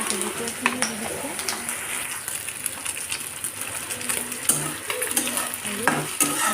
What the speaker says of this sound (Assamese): আৰু এনেদৰে লৰাই দিছোঁ